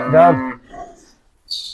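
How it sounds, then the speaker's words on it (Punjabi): A single cow lows briefly at a cattle sale, a close, fairly loud moo with rising harmonic tone, then a short quieter call and a faint high rustle; no one speaks over it. "ਗੱਬਣ 20 ਕਿਲੋ ਵਾਲੀ ਗਾਂ ਵੱਡੀ"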